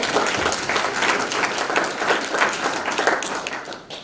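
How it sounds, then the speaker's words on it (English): A community meeting audience gives a sustained round of applause, dense steady clapping filling the room for about four seconds and thinning slightly toward the end. "If you can join me in a round of applause."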